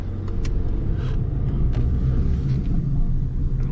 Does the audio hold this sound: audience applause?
no